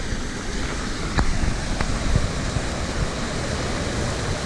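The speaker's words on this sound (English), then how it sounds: "Got a little waterfall here." A small waterfall at the head of a spring-fed river in Arkansas rushes in a steady broad wash of falling water, close and constant, with a couple of faint knocks and some wind buffeting.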